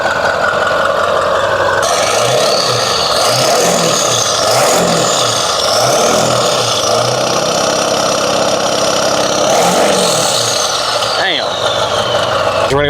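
Ford 7.3L Powerstroke diesel with aftermarket injectors idling up close, a loud steady clattering rumble with rhythmic pulsing and a few brief revs, voices talking over it.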